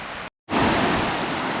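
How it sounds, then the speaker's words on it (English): A waterfall beside a bridge at Sheeffrey Pass in County Mayo roars in a steady, loud broadband rush that cuts out briefly and then returns at full strength. "If we have a look here, so we've got the main falls there."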